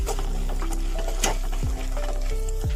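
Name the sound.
frying peanuts, chana dal and urad dal in oil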